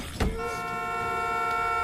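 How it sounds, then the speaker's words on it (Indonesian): A truck horn is pressed and held in a zombie scene, a loud sustained blare after a short thump, continuing without a break to the end. "menekan klakson truk tersebut sampai-sampai mengundang banyak zombie"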